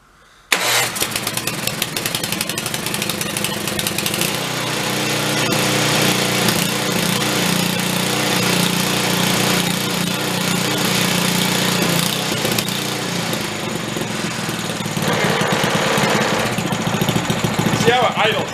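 A Simplicity 1250 snow blower, a large junked machine being revived, cranks with its engine and then settles into a steady, loud idle that runs on without a break.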